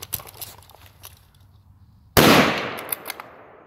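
A Ruger Gunsite Scout rifle fires one sharp, loud shot close by that cuts through faint background noise and rings out in a decaying echo.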